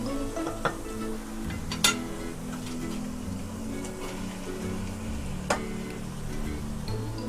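Half a kilo of beef mince sizzling in a pan with frying crushed red chillies and spices, a low continuous crackle with occasional spoon clinks and stirring scrapes, fairly quiet.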